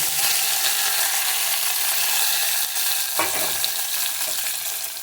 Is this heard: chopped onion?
yes